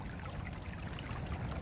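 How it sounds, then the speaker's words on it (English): Flash-flood water from a heavy thaw rain rushes steadily into a gravity-powered dry well drain system, a continuous broadband wash of flowing water with no breaks. "Well, that's just flood water."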